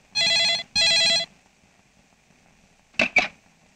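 A telephone bell rings twice in long, even bursts during a call, loud and close in a quiet room, followed by a pause and two short clicks of handling.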